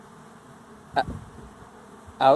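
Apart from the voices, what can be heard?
honeybee swarm buzzing around a box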